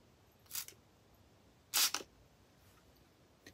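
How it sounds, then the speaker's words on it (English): A small Dollar Tree spray bottle of scented spray gives two short hissing mist bursts, the second longer and louder, close and otherwise quiet. "I'm going to go ahead and spray it."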